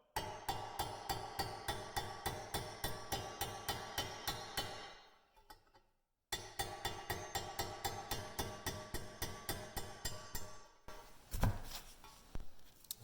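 Sharp, rhythmic hammer blows on a punch drive an a-arm bushing out of a 2019 Polaris Ranger 1000 XP, up close and loud, with a short pause midway and a heavier ringing strike near the end.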